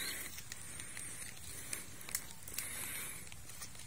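Steady patter of rain falling on a small farm hut beside rice paddies, a dense, even wash of drops with a few sharper taps landing close by.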